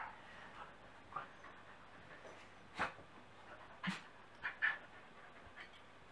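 A dog pants in quick, soft bursts during a scent search drill, the breaths close but faint and coming in irregular clusters against a quiet background.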